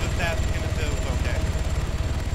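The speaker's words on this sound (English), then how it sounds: "I could barely hear anything over the sound of the helicopter." Helicopter rotor thump from a flight in the video game Arma 3, a steady low pulsing drone that runs throughout at close range, with voices talking over it.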